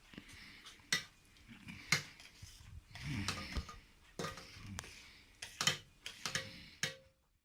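Metal spoon scraping and clinking against a pot as sugar is stirred into grape syrup, a series of sharp ticks and scrapes at irregular intervals, close and fairly quiet.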